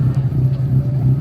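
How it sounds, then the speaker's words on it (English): A motorbike engine at a car show idles and revs in a steady, deep, throaty rumble, loud and close, with outdoor crowd noise underneath. "Got this guy with his really nice bike. He's very nicely revving it for us."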